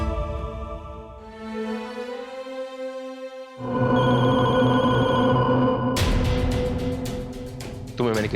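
A telephone bell rings repeatedly in a domestic scene, first fairly soft, then louder and fuller, with a sharp clatter at the very end.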